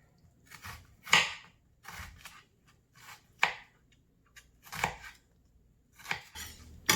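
A kitchen knife slicing through an onion on a cutting board, a series of separate crisp cuts spaced roughly a second apart, each a short crunch ending in a light board tap, close and clear.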